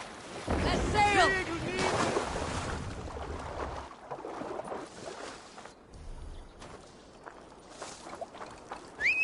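Longship under sail in Assassin's Creed Valhalla, with wind gusting and waves washing around the hull; sea and wind noise fill the scene, with a few brief game sounds over it, strongest in the first few seconds.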